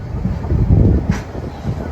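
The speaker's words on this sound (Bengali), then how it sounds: "এখন আমরা ডিপার্চার নিচ্ছি সাতকানিয়া রেলওয়ে স্টেশন থেকে" The Probal Express pulling away from Satkania railway station, heard from on board as a loud, steady low rumble of the moving train with a brief hiss partway through.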